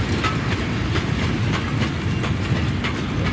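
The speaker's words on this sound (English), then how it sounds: "This clip shows a rake of stone wagons heading out of Dowlow Yard in Buxton and on to Lostock Works via Knutsford" A rake of loaded stone wagons rolls out of Dowlow Yard in Buxton, bound for Lostock Works, with a steady, close clickety-clack of wheels on rail joints throughout and no voices.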